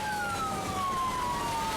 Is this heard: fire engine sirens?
yes